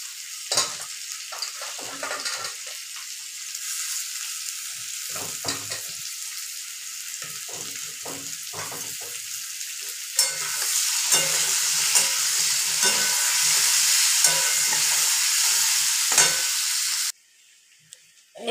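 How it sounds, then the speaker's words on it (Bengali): Sliced onion fries in oil in a pan after potatoes, with a steady close hiss of sizzling that grows louder midway, broken by frequent scraping stirs, before cutting off abruptly near the end. "প্রথমে আলুগুলো ভেজে রাখছি, এবারে খানিকটা কোচানো পেঁয়াজ আছে দিয়ে দিচ্ছি।"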